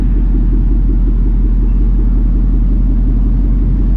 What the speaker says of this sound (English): we got one car going on the dyno